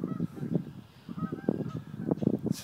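A one-legged goose honks repeatedly nearby, a string of rough nasal calls in an uneven rhythm, moderately quiet against faint outdoor background.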